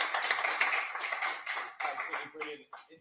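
Conference audience applauding at the end of a talk, a brief burst of clapping from a modest crowd that thins out after a few seconds.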